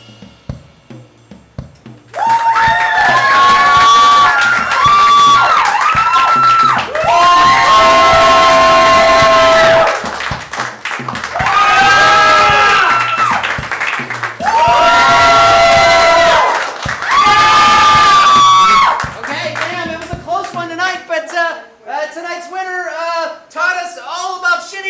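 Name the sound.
audience cheering and applauding for Zach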